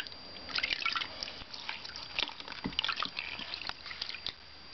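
Water drips and trickles in a baby's bath, a steady patter of small close splashes and sloshes with an uneven rhythm and no talking.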